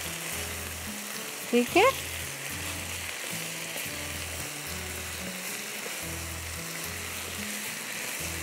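Chicken tikka chunks and vegetables frying in a pan give off a steady, soft sizzle throughout, under a rhythmic background music loop, with a brief spoken word in the middle.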